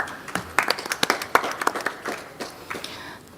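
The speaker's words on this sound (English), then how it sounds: "a round of applause for our last startup of the day" Audience applause at a youth startup pitch event closes out the day's last startup before a jury: a scattered run of sharp, fairly close hand claps, irregular and moderately loud, thinning out toward the end.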